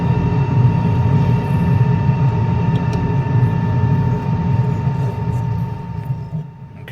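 The De Havilland Goblin jet engine of a DH.100 Vampire in Microsoft Flight Simulator runs with a steady, loud low roar and a constant whine from within the cockpit, easing slightly near the end.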